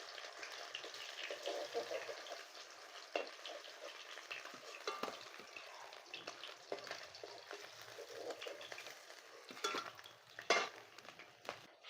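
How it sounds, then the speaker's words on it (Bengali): Pomfret fish frying in oil in a pan, with a steady soft crackle of sizzling and occasional louder spits and pops as the pieces cook, recorded close by in a home kitchen. "মাছটা এবার ভাজা হয়ে গেছে।"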